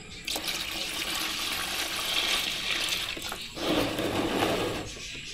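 Fresh coconut milk is poured into a fishing bait mixture, a steady close splashing gush of liquid lasting several seconds with a brief dip and a fuller pour toward the end.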